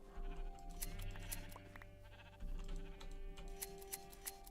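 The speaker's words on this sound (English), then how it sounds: "because that pink sheep's like my favorite, actually" Baby pink sheep in Minecraft bleating in the game, the wavering calls repeating over a steady background hum, with faint keyboard typing and clicking scattered throughout.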